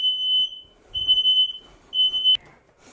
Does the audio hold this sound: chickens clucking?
no